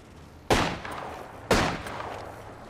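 Gunfire in the video game Apex Legends: two sharp, loud shots about a second apart, each with a ringing decay.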